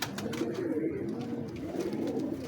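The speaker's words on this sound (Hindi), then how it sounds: "बड़ी अच्छी कबूतरी है" A female pigeon coos softly and low, a few muffled rolling calls over a quiet background with no talk.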